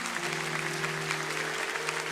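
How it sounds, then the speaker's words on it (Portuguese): A church congregation applauds steadily during a service, with dense, continuous clapping and a sustained tone humming underneath throughout. "Pode aplaudir a Jesus"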